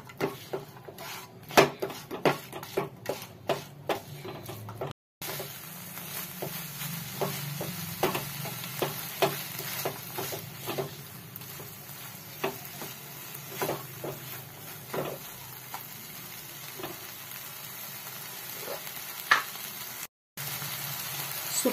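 A spoon scrapes and knocks in a pan as puran filling with jaggery is stirred: steady repeated taps and scrapes, close and fairly soft, with no talk.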